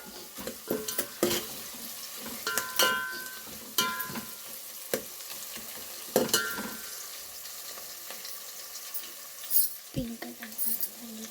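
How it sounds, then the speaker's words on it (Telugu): Chopped onion fries in a pan while being stirred, with scattered scraping clacks of the spoon and soft sizzling between them, fairly close and moderately quiet. "ఆనియన్ ఫ్రై అయిందండి"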